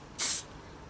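Lacquer sprayed from a can onto the front wheel of a Honda Custom Cub motorcycle, a single short close hissing burst that then cuts off.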